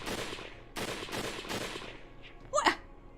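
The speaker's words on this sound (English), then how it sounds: "more gunfire came ringing from the distance" Distant gunfire in the visual novel game Hakuoki: Kyoto Winds, a few quick muffled cracks in a short burst that fade out, followed by a brief sharp vocal sound.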